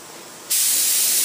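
A spray gun driven by compressed air bursts into a loud, steady hiss after a quiet moment, the blast of air running on without a break.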